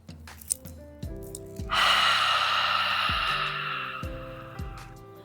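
A long, deep breath drawn in during a calming yoga exercise, a steady breathy rush lasting a few seconds, close and fairly loud, with soft tonal music underneath.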